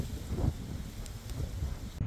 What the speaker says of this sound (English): Don't know why, it's just ridiculously windy.